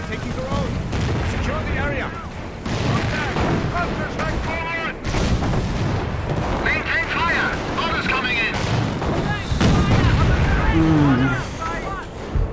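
Artillery and gunfire in the video game Company of Heroes, set during Operation Market Garden. Dense, continuous booms and crackling shots rumble throughout, with voices from the game heard among the battle noise.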